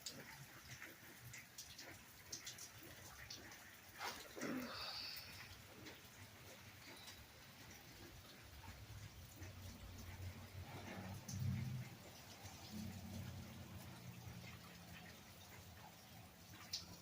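Steady outdoor rainfall on a cold New Year's day, a continuous soft hiss with scattered drops and occasional louder taps, fairly faint and distant-sounding throughout.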